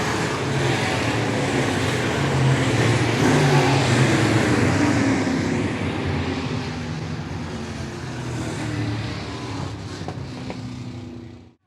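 Modified race car engine droning loud and steady at Clay County Speedway, a continuous roar that eases slightly toward the end before cutting off.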